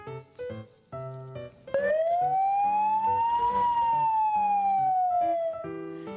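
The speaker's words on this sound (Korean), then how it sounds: "이렇게 길게 늘어지는 소리의 사이렌은 주위를 환기시키거나 응급 환자를 이송할 때 사용된다고 합니다" A long, drawn-out police car siren swells up in a single slow rising and falling wail, loud and close, with scattered background tones before and after it.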